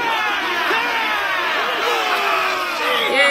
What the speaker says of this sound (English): Yay, all the twins are cheering for me.